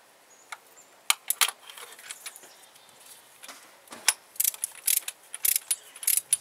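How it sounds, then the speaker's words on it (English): A torque wrench ratchets spark plugs down by hand, giving short quiet clicking bursts that grow quicker and denser toward the end, with no talking. "and just ratchet it down, and then listen"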